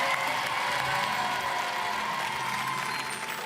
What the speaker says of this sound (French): on applaudit fort